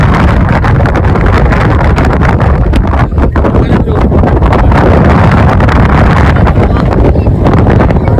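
Strong wind at a viewpoint buffets the microphone in a loud, unbroken roar that nearly drowns everything else.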